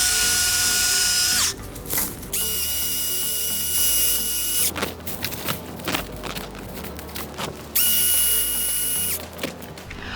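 A Stihl battery chainsaw cuts during a fall cleanup, giving a loud, steady, high whine in long bursts, broken by short pauses and rough rattling as the chain bites through the wood.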